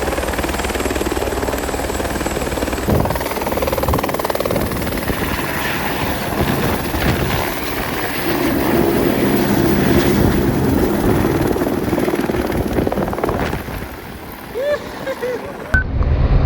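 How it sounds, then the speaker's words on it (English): A search and rescue helicopter thrums loud and steady nearby, its rotor drone continuous throughout with a swell in the middle, while people talk beneath it. "The helicopter."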